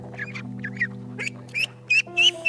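Ducklings in Australia give short, high peeping quacks in scattered bursts that grow louder toward the end, over a steady low hum.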